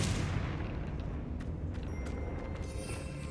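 A Confringo spell goes off in Hogwarts Legacy as a loud, broad fiery blast that rumbles and hisses, then slowly fades over a few seconds with no voices.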